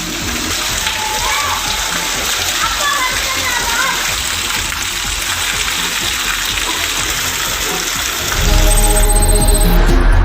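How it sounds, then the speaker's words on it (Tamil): Heavy, steady downpour roars close in Velayuthapuram, where children bathe and splash in the rain; the hiss is dense and continuous, and a deeper rumble of gushing water joins near the end. "வேலாயுதபுரம் பகுதியில் சிறுவர்கள் கொட்டும் கனமழையில் குளித்து மகிழ்ந்தனர்."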